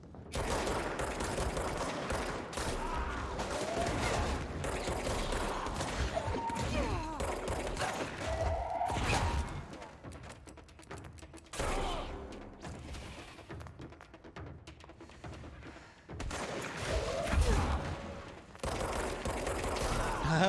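Sustained gunfire while shooting enemies in the video game Control, with rapid bursts and dense volleys running almost continuously, broken by a few brief lulls, loud and close with no voices.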